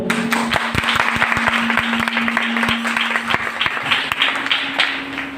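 A congregation claps loudly and continuously at a Christian worship service, producing dense, irregular hand claps over a steady low hum, with no voices.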